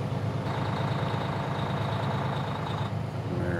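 A 2019 Renegade Classic motorhome swinging through a tight turn in a parking lot, its heavy engine droning steadily and loudly throughout with a faint whine above, no talking.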